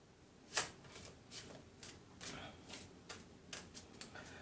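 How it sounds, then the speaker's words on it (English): Tarot cards being shuffled close by in a quick run of papery riffles and flicks, repeated about eight times at a steady rhythm, with one sharper snap near the start. "I'm going to shuffle these here."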